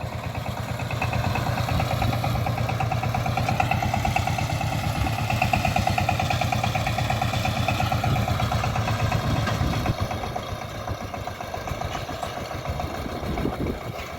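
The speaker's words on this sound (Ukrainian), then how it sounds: "Бачите, такий саморобний тракторець." A homemade small tractor engine chugs steadily in a field during spring sowing, with a rhythmic, knocking putter and a constant low hum, running close by without any voices.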